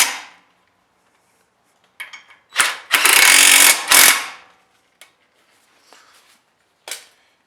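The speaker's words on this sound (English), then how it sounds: "So now we can go ahead and tighten up the bracket." A ratchet tightens the brake caliper bracket bolts on a 2012 Mazda 3 during a front brake job, with bursts of rapid clicking between quiet pauses and a few short taps near the end.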